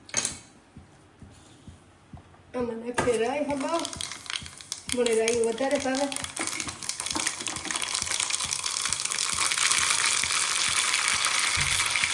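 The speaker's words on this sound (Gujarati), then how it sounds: "આમાં તડકો મારે દાળમાં નાખી દઈએ" Tempering (tadka) poured into a pot of dal on a home stove gives a loud, sustained sizzle that builds over the second half. Voices and tonal kitchen sounds come before it.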